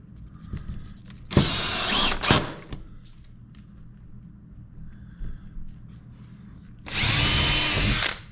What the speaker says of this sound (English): now I can just go around and drill all my holes